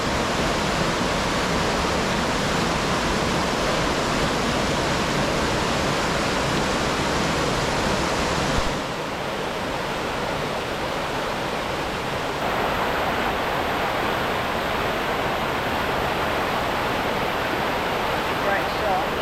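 A waterfall at Crystal Creek, swollen after overnight rain, pours in a loud, continuous roar that fills the whole stretch. It sounds close and steady, and the tone shifts slightly partway through.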